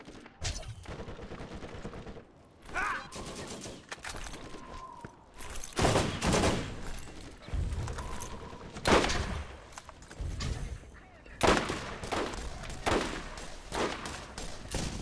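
Repeated bursts of gunfire from the shooter game Borderlands crackle in uneven volleys with short lulls between, loud and close throughout.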